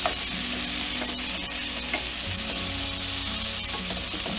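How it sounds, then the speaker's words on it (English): Creamy sweet pea and bacon sauce with green beans sizzling in a pan, a steady loud frying hiss throughout with occasional stirring clicks and scrapes, no voices. "And this is going to cook for a couple minutes."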